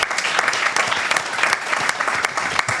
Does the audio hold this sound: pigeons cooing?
no